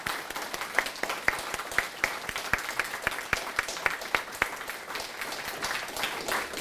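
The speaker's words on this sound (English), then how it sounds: "can I please have a huge round of applause for Brendan" A small audience applauds at a hosted dinner gathering, a steady moderate wash of clapping with a few sharper individual claps standing out, continuing throughout.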